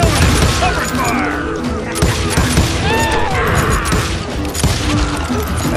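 Rapid gunfire in a Call of Juarez: Gunslinger Old West shootout, loud dense volleys of pistol and rifle shots cracking over each other, with shouting voices mixed in throughout.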